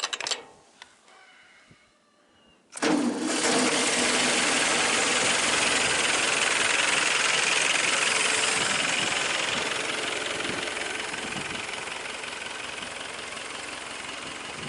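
An old tractor engine starts after a quiet pause and then runs steadily and loud, a dense broadband rumble that eases slightly toward the end, with no voices.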